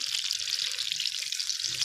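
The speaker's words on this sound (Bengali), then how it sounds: "কাতলা মাছের মাথা ভাজা হচ্ছে" Constant crackling sizzle of a catla fish head frying in hot oil in a pan, close and steady with no voices.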